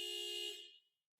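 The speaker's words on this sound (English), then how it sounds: "I can honk the horn." A car horn sounds in one steady, loud blast of about half a second, triggered through a Mucar X93 bi-directional OBD-II scan tool's body control module actuator test, then dies away to silence.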